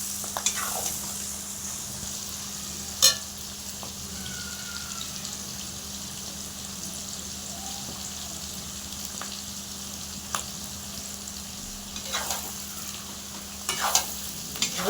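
Slit whole green chillies sizzle in a pan of hot oil for chilli chicken, a steady close fry with a low hum beneath and a few sharp pops and clicks scattered throughout.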